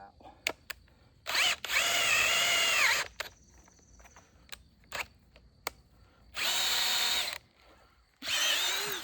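A cordless drill running on an 8 amp hour battery bores into wood in three loud whirring bursts, each lasting a second or two. Quieter clicks and rattles of handling fill the gaps between them.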